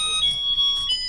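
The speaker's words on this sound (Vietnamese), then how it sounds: "Nhạc dạo chuông còi đầy đủ các bác nhá" A Japanese electric rice cooker sounds its chime melody and beeps, steady electronic tones that shift in pitch, close and clear with no talking.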